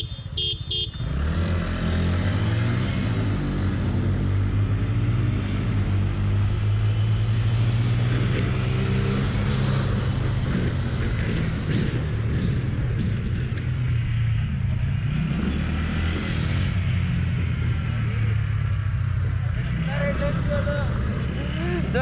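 A TVS Ntorq 125 Race XP scooter, single-speed, accelerates under throttle with a continuous close engine drone and road and wind rumble, while a rider talks throughout.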